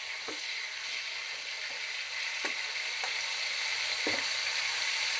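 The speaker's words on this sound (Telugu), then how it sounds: "ఇదిగోండి కాకరకాయలు ఇలా ఫ్రై అవుతున్నాయండి" Small bitter gourds fry slowly in oil over low heat, giving a steady close sizzle with a few sharp pops scattered throughout.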